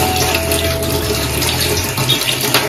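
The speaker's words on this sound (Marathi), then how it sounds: "आता आपण स्वच्छ पाण्याने जरा हात धुया आपले।" Tap water runs steadily and fairly close, splashing as hands are rinsed beneath the stream.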